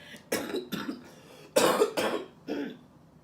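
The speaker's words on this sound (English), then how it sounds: "I still have the cough" A few close, harsh coughs in short bursts, with brief pauses between them and no speech.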